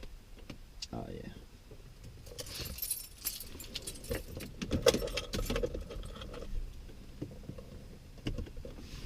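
Car keys jangle in bursts inside a learner's car during a driving lesson, with short metallic rattles spread through the clip alongside cabin noise and handling sounds.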